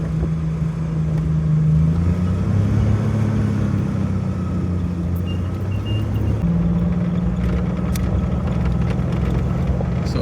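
A 1988 Jeep Wrangler Sahara creeping slowly up a steep hill on road tires, its engine a steady low drone with gentle pitch shifts as the load changes, heard from inside over continuous road and wind rumble.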